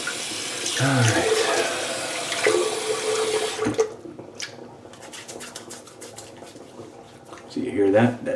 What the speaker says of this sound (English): So you hear that? That draining?